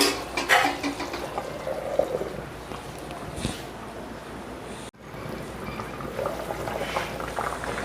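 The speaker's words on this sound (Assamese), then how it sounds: "সুন্দৰকৈ উতল আহি গ'ল ধুনীয়াকৈ" Bubbling water simmers in a cooking pot for a fish curry, a steady rolling churn with a brief clank partway through.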